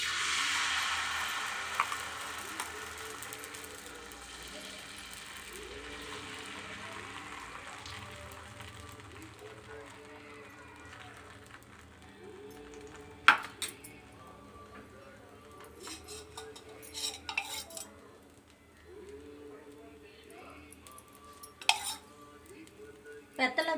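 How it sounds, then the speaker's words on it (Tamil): Dosa batter made with curry leaves and betel leaves is poured onto a hot stone griddle, giving a soft hiss that fades over the first few seconds, followed by scattered utensil clinks and scrapes. "இப்போ தோசை ஊற்றலாம்."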